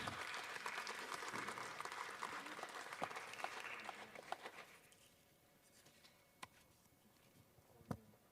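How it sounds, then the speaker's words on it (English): Audience applause for speakers at a community event on fighting invasive species in Maui County: a full round of clapping that fades out after about five seconds, leaving a few scattered late claps in a quiet room. "Before I pass the floor to Lissa, let's give all of our speakers a big hand of applause"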